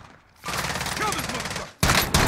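Desert Eagle pistol gunfire in Call of Duty Warzone, loud sharp shots near the end of the clip after a stretch of dense game noise with a voice over it.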